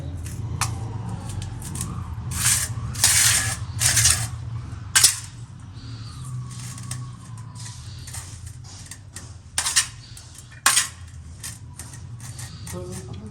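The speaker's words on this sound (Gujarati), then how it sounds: "મેગીનો મસાલો મિક્સ થાય છે" Maggi noodles being stirred with masala in a pan: scattered metallic clinks and ticks of a utensil against the pan, some in quick clusters, over a low background hum with faint voices.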